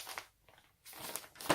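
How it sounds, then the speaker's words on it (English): Small plastic bag holding a full lace wig, crinkled in two short faint bursts with a quiet pause between them, close up and with no voices. "the wig that I got, it does come into a little plastic bag"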